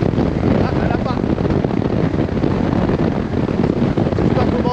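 Gusty wind buffets the microphone in a constant loud roar while riding an Alrendo TS Bravo V2 electric scooter outdoors, with no letup across the whole stretch.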